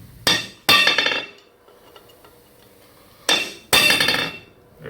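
Sharp metallic hammer strikes on a chisel against the axle bearing collar of a 1966 Ford Bronco rear axle, two quick hits, a pause, then two more, each ringing briefly.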